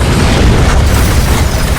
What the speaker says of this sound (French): Tout à coup, les vitres de la voiture explosent.